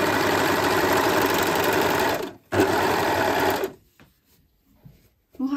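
An overlock sewing machine stitches a seam along a marked seam allowance, its steady, loud motor whir running continuously for about two seconds, pausing briefly, then resuming before stopping, followed by quiet handling of the fabric.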